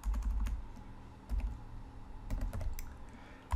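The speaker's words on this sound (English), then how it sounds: "I'm going to type in port equals" Scattered, soft keystrokes on a computer keyboard tap out in short irregular clusters, close and quiet, with no speech over them.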